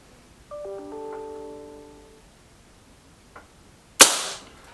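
A single sharp gunshot during a Remington shooting test, loud and close near the end, preceded by a brief electronic tone.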